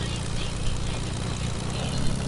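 An aircraft flies in the Fortnite video game, a loud continuous low engine drone that holds steady throughout without any clear talk.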